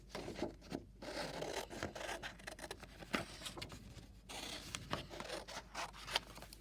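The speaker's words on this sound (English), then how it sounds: "I'm going to quickly cut my squares out." Scissors cut paper squares in a quiet indoor setting, giving a rapid run of close, soft snips and rustles with brief pauses, and no speech.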